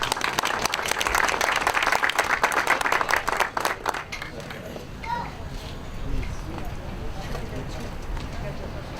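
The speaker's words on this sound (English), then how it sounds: "A collective round of applause for all our past presidents" A crowd at a Lebanese American Day community event applauds past presidents. Dense, loud clapping fills the first four seconds, then fades out as an announcer's voice carries on.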